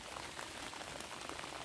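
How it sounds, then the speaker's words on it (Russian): Soft, steady patter of rain dripping, a dense scatter of small drops at a constant, fairly quiet level with no voices. "Дождь капает."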